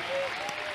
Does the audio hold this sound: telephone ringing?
no